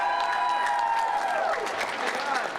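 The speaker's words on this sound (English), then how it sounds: "So give her a nice round of applause." An audience at a press conference celebrating music in schools applauds briefly, with soft clapping under a held musical tone that slides downward and some chatter.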